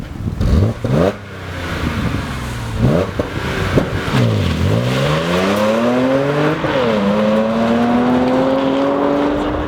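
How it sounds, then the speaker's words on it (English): A 2012 Audi S4 with a manual transmission launches hard, its engine revving in short bursts before dropping low and then climbing steadily under acceleration through a loud, sustained pull, with no voices heard. "The launch in this car with a manual it's a lot more rough, because you're using the clutch yourself."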